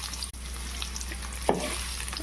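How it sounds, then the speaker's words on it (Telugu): Beetroot pieces frying in hot oil after a tempering with curry leaves: a soft, even sizzle with one brief tap and a small clatter near the middle, no talking. "ఒక 3 నిమిషాల పాటు ఈ ముక్కల్ని ఇలా వేయించాలి"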